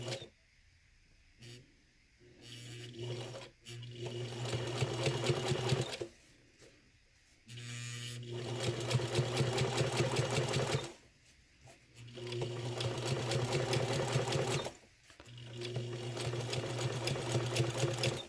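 A sewing machine sews a zipper pocket with a fairly long stitch. It runs close by in several bursts of a few seconds each, with brief pauses and handling sounds between them.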